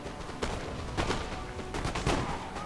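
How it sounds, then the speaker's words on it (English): Musket volleys from grenadier lines in the Napoleon: Total War video game, a few sharp overlapping shots cracking out at intervals over a steady battle din, with no talk. "You can see my Grenadiers getting some shots off."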